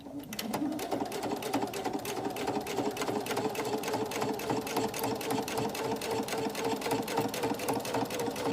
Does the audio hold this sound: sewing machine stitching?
yes